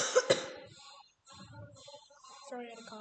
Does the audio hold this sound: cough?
yes